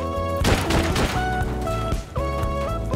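Explosive rounds fired in the video game Rust, a rapid volley of loud shots with bursting impacts, a short pause, then more fire over game music.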